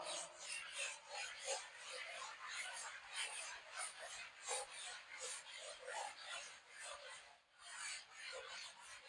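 Soft, raspy rubbing strokes repeat in a steady back-and-forth rhythm, fairly faint and close, with brief pauses and a low murmur of background speech.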